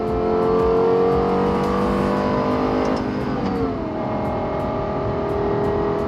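Lexus LFA engine, one of 64 built, revving hard through third gear toward 6,000 RPM, a loud, continuous high-pitched wail with harmonics that climb steadily, dip briefly near the shift, then keep sweeping upward, close and alone without talk.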